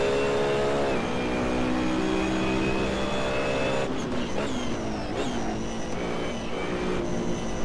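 BMW Z4 race car in the Assetto Corsa racing game, engine droning loud and steady with rising and falling revs through gear changes, other cars audible around it during an online multiplayer race.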